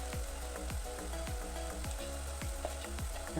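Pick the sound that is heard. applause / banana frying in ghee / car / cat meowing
banana frying in ghee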